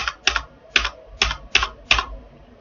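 Close computer keyboard typing while entering data in Tally ERP9 accounting software, a quick run of crisp key clicks in small uneven bursts, several falling in rapid pairs.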